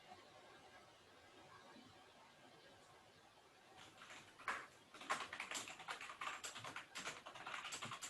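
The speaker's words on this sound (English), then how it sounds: "I hear someone typing." Quiet, scattered tapping of keys on a keyboard during an online webinar, starting faint and growing busier in the second half, with soft room noise underneath.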